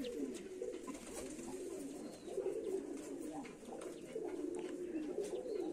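Pigeons, including Black Diamond birds, coo softly and steadily close by, the low rolling calls repeating with brief chirps and a faint voice in the background.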